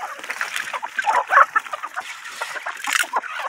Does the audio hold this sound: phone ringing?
no